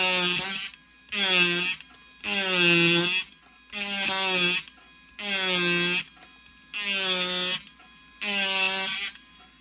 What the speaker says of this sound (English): So now I can get in here with the Automac and just kind of blow this out.